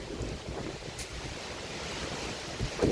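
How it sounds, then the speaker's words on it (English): Strong wind of about 40 mph at a campsite, a steady roaring gust noise buffeting the microphone close up, continuous and loud throughout with no speech. "Since the wind is coming from the northwest"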